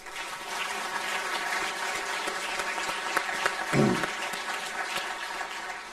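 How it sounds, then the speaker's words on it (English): An audience at an awards ceremony claps in a sustained, even round of applause, moderately distant, with a brief low thump partway through. "Can we give them a round of applause, please?"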